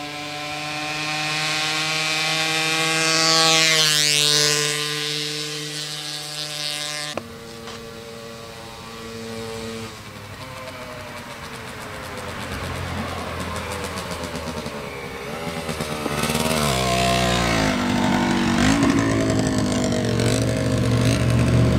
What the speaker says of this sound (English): Like running a GP bike, it revs right to the moon